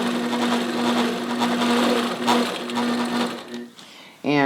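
A sewing machine with a hopping foot doing free-motion quilting of victorian feathers runs in a steady fast whir, pauses briefly near the end, then starts again, with a voice talking over it.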